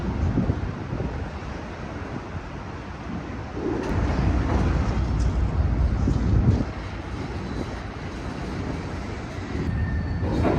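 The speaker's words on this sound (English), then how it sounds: "A Max light rail train rolls by along North Interstate Avenue." A Max light rail train rumbles past at a distance along North Interstate Avenue in Portland, a steady low roar with wind noise that swells in the middle and eases off.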